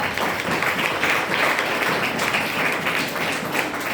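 Students applaud in a medical college lecture hall, a dense, steady burst of many hands clapping throughout, loud and close with no talking.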